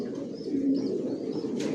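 Racer pigeons coo softly at close range in a loft with young birds, a short low murmuring call with a brief flutter near the end.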